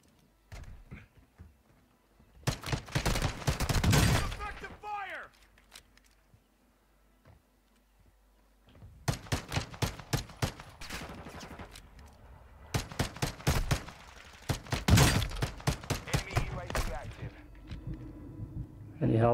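Gunfire in Call of Duty Warzone 2 Resurgence trios on the Vondel map arrives in several loud bursts of rapid shots, separated by quieter gaps. Players talk between the volleys.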